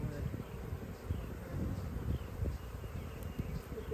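Honey bees buzz at an open hive, a dense low droning hum close by that rises and falls continuously without pause.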